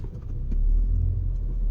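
A car slows and pulls over to the roadside, its engine a low, steady rumble heard from inside, close and without talk.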